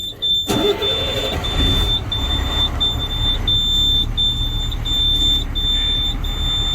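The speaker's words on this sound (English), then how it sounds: "air warning device is on. So what you have to do is cut the engine on to make that shut off." A truck's low air pressure warning beeps in short, even pulses, steady, loud and close, over a low engine idle rumble, after a brief knock at the start.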